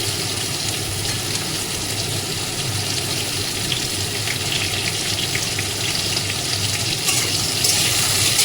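Paneer pieces frying in hot oil give a steady, dense sizzle that runs unbroken from start to finish, fairly close and loud, growing a little brighter near the end with no voices.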